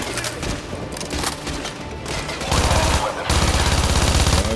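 SMG fire in Modern Warfare 2 rattles in quick, loud, close bursts and swells into a heavy sustained volley in the final seconds, with brief faint speech mixed in.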